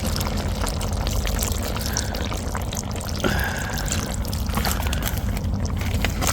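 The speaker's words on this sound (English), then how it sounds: "I'm going to put some more chicken stock in there and build it up." Chicken stock poured into a beef and Guinness stew in a camp oven outdoors, a steady close pour running continuously with a faint brief trickle in the middle.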